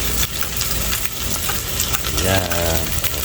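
Tocino, cured pork, fries in a pan with a dense steady sizzle and occasional stirring scrapes, loud and close throughout.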